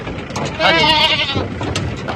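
A sheep from a herded flock lets out a loud, wavering bleat over the nearby voices of people talking.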